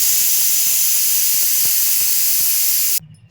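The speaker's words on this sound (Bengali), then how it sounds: "কয়েক সেকেন্ডের দুটো তিনটে সিটি মারলে আমার খিচুড়ি রেডি।" A pressure cooker on the stove cooking khichuri lets out a loud, steady steam whistle that hisses unbroken for about three seconds, then cuts off abruptly.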